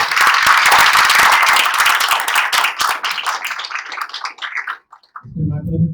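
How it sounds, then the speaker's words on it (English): A conference audience at a medicine and AI panel applauds the panelists, a dense burst of close clapping that thins out and fades into scattered claps before a brief voice at the end. "So I want a big round of applause for our panelists and our keynote."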